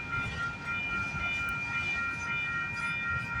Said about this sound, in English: As soon as this train goes by